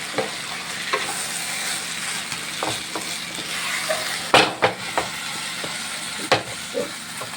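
Vegetables for avial, an Onam sadya dish, are being stirred in a non-stick pan. A steady sizzling hiss runs throughout, broken by scattered scraping knocks of the spoon against the pan.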